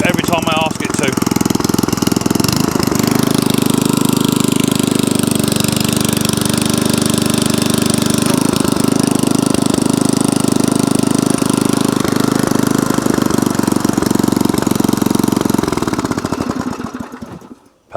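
An MDT T380 garden tiller engine runs steadily and loud, holding a constant throbbing drone before cutting off and falling silent near the end.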